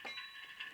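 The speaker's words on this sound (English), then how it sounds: "that's the bell." A short electronic locomotive bell from an ESU DCC model train sound decoder rings in quick repeated dings, bright and metallic, alone and fairly quiet.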